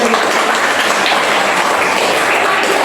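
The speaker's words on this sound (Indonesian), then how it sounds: "tepuk tangan" An Indonesian classroom audience claps together in a dense, steady burst of applause that stays loud and close for a few seconds.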